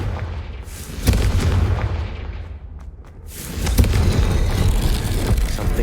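Booming magical Confringo blast in Hogwarts Legacy, heavy explosive thuds with rumbling tails, one sharp hit near the start and another after a brief lull, over continuous combat noise.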